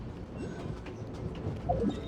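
A train rolling along in Genshin Impact, a steady low rumble with faint clatter running throughout, moderately quiet with no talk.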